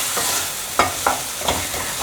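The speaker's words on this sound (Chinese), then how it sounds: "把所有调味料炒匀" Potatoes and mushrooms being stir-fried with soy sauce, pepper, sugar and Sichuan pepper in a pan: steady broadband sizzle with a few sharp scraping stirs of the spatula, close and alone.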